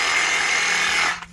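Gas-powered weed eater trimming back bushes, a loud continuous whining engine drone at close range that cuts off abruptly near the end.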